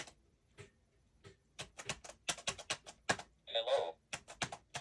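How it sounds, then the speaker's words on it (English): Keys on a Braille notetaker click in quick irregular bursts, close and crisp, with short gaps between clusters and a brief synthetic-sounding tone partway through. "Now I'm going to keep the key echo off on this one so you guys can hear the keys."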